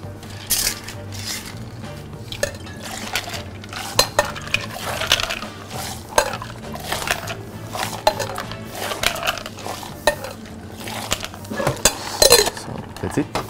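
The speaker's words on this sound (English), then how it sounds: "We roll it just to mix ingredients, but still obtain the fizz." A cocktail of whiskey with apple and rhubarb juice is rolled between metal shaker tins, giving close, repeated clinks, clatters and sloshing knocks in an uneven rhythm over a low background hum.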